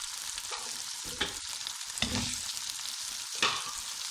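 Potatoes and carrots for saag matar aloo gajar fry in a pan with a steady close sizzle, broken by a few sharper stirring scrapes and knocks.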